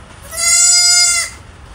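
A goat in labour on a farm lets out a single close, loud bleat that lasts about a second, with near silence before and after.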